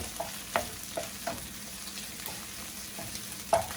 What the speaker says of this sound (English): the red curry paste, and we're going to do that for about a minute or so, just so that the raw flavor is gone and it starts to release the oil